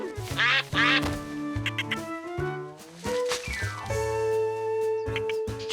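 Cartoon ducks quacking at a duck pen, a lively burst of repeated nasal quacks in uneven clusters, loud and close, set against bright tonal musical notes and chirpy whistles.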